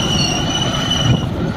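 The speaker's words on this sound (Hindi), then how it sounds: "ट्रैक्टर की आवाज देखी आपने, ट्रैक्टर चल रहा है भुआर करता" A tractor engine's steady, rumbling drone with a faint high whine runs continuously at an even, fairly loud level, with no voices.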